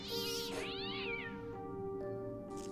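Cat meowing in the video game Fran Bow, a few drawn-out, wavering, plaintive meows with a caterwauling edge, fairly quiet over a sustained tonal game soundtrack, with no talk.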